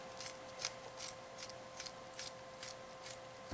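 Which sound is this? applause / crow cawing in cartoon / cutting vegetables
cutting vegetables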